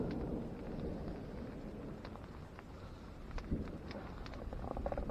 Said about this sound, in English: it looks like we had a storm roll in. So we've got a lot of thunder and lightning